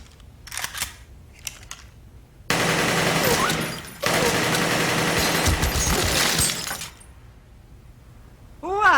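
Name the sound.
AK-47 assault rifle gunfire in a studio demonstration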